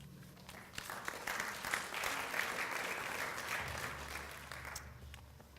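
An audience applauds to welcome a speaker, steady clapping swelling after a second and sustained for several seconds before easing off, moderately distant, with a low hum underneath.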